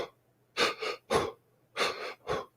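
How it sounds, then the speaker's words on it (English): Abdominal breathing exercise performed close to the listener: four distinct, audible breaths in two pairs, each a breathy rush of air with short gaps of silence between, no talking. "you're breathing into your abdomen"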